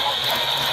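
Rapid, close mechanical ratchet clicks come from the crank of a Kamen Rider Build Hazard Trigger toy being turned, a brief burst with no other sound.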